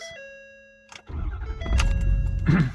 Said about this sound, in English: So we'll start the truck up and I'll show you exactly how that works.